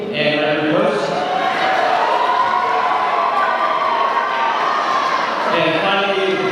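Audience at a model UN closing ceremony giving sustained applause mixed with cheering and crowd noise, loud and continuous in a large hall.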